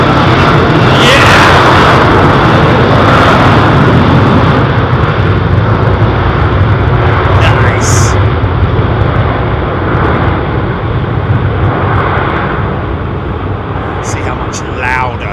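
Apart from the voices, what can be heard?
airliner with multi-bladed engines at London Heathrow Airport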